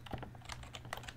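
Keys tapped on a Color Computer keyboard while entering a BASIC program: a quick, irregular run of close, crisp keystrokes with no voices.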